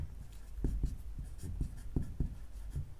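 A math solution is handwritten with pen on paper. Close, quiet scratchy strokes come in a loose, repeated rhythm, with no talking.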